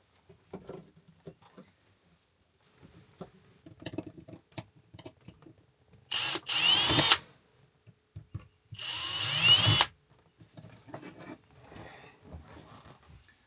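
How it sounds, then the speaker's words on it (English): Two short bursts of a drill boring small holes for a switch in a 2016 Winnebago View motorhome, each about a second long, loud and close amid quiet clicks and handling. "he pre-drilled the two little holes for the switch"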